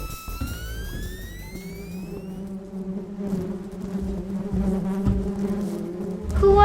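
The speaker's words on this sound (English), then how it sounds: "There are bees everywhere." Bees buzz around a boardwalk beehive in a continuous droning hum, rising tones sweeping overhead at the start and the swarm growing louder toward the end.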